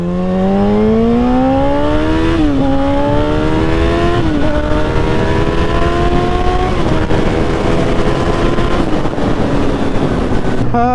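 A motorcycle accelerates hard on a cold-weather ride, its engine note rising steeply through several gear changes, loud and close over steady wind rush, with no talking.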